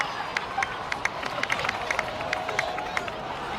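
A crowd in the video game Genshin Impact claps and cheers in a steady wash of noise, with scattered sharp claps standing out.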